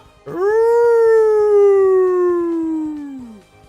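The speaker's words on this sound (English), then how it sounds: "the howl of an animal stopped me in my tracks" A single long, loud animal howl from dogs in the video game Sharin No Kuni, rising quickly, holding a steady tone for about three seconds, then sliding down and fading, with no talk over it.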